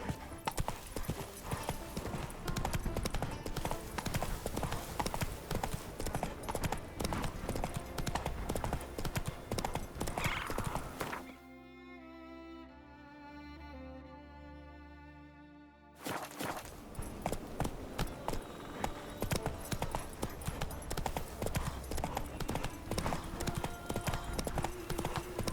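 Roach the horse gallops in The Witcher 3, a fast, dense clip-clop of hooves that runs steadily, breaks off into a brief quieter pause with a whinny-like tone, then resumes at full pace.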